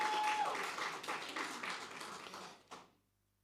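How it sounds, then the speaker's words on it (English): Audience applause fills the hall at the Young African Women Congress annual global convocation, a dense steady clatter of many hands that fades out over about three seconds, leaving near silence. "they need a round of applause"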